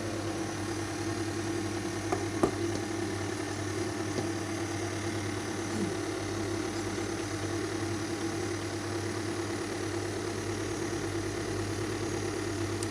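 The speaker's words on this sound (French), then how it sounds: "Le batteur il va tourner régulièrement à même vitesse" A hand-held electric beater runs steadily at low speed while mixing a sponge-finger batter, producing a continuous even motor hum with a faint whirring texture and no talk.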